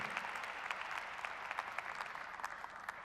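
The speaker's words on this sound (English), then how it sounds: "a round of applause for all of these members of the panel" Applause for members of a conference panel, a steady round of clapping from an audience that is fairly faint and distant and continues throughout without talking.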